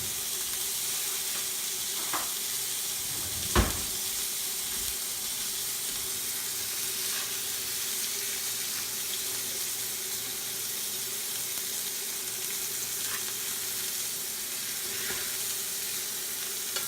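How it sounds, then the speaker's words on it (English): Meat sizzles steadily in a pan with a pat of butter as a spoon bastes it, a constant close frying hiss with a couple of sharp clinks of the spoon against the pan. "I'm trying to baste it, but I'm not doing a really good job, am I?"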